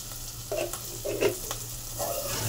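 Vegetables fry in a pan with ground cumin, a moderate steady sizzle broken by a few utensil scrapes and clinks as the mixture is stirred.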